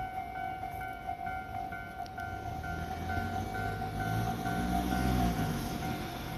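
A Joban Line train rolls past the level crossing at Kita-Senju station while the crossing warning bell rings in a steady repeating tone, with the rumble of the passing cars growing louder toward the end.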